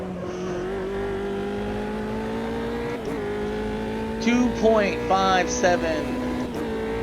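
A P3 race car lapping the Red Bull Ring in a racing game, with a steady high engine whine held throughout and a brief burst of tire squeal and gear shifts near the end, a voice talking over it.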